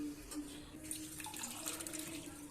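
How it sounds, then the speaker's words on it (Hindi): Water is poured into a cooking pot on the stove, a soft continuous splashing trickle heard up close with no talk over it. "यहाँ मैंने पतीला चढ़ा दिया है और अब मैं इसमें पानी डालूंगी"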